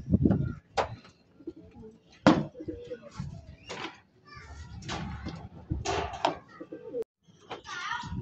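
Pigeons being watered after coming in from the heat, with soft coos and bird calls heard in short bursts over background voices and children's chatter.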